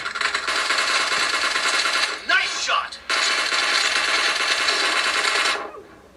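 Rapid automatic gunfire in the mobile game PUBG Mobile plays in long, loud, continuous bursts with a brief break in the middle, then stops abruptly.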